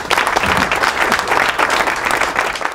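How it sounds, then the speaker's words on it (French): Television game-show studio audience breaking into loud, dense applause, a continuous close wash of many hands clapping at once without pause. "on l'applaudit."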